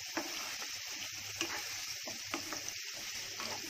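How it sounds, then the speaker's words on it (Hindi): Apple slices fry on high heat with lemon juice and salt, giving a steady, close sizzling hiss scattered with small pops and a few soft stirring clicks, with no talking. "फ्राई कर रही हूँ, इस पर थोड़े थोड़े दाग आने तक"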